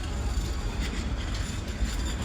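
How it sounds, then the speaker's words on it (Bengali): A train pulls out of Kurigram railway station, a steady, close rumble of rolling carriages with deep low-end weight and no distinct clacks, continuous throughout with no voices. "ট্রেনটি কুড়িগ্রাম থেকে ছেড়ে যাচ্ছে"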